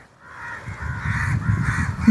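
Several crows caw repeatedly, harsh calls overlapping in a steady chorus that grows louder toward the end, with no talking.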